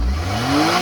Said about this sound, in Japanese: 今からちょっとジョイの入った車でドライブしてみたいと思います